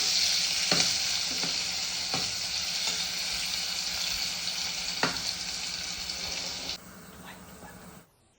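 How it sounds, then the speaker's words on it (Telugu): Garlic and thinly sliced onions frying in a pan for methi garlic curry, a steady bright sizzle throughout with a few sharp stirring clacks, then quieting near the end. "మళ్ళీ వెల్లుల్లి, కొంచెం ఉల్లిపాయలు, సన్నగా పెట్టుకున్న ఉల్లిపాయలు వేసి ఫ్రై చేసుకోవాలండి"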